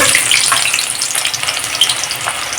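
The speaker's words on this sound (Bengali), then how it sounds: "সেই পেঁয়াজ দুটোকে আবার টুক করে ভেজে নেব" Onions fry in a pan with a steady, close sizzle and crackle, with faint stirring underneath and no talking.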